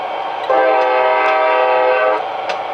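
An HO scale Athearn Amtrak P40/P42 Genesis locomotive with DCC sound sounds its horn in one loud, steady, nearly two-second blast over a quiet background hum.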